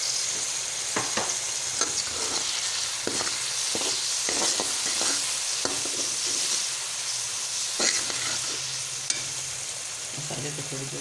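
Masala with about a teaspoon of red chili frying in a pan for chana pulao, a steady close sizzle with scattered clicks and stirring scrapes throughout, no talking.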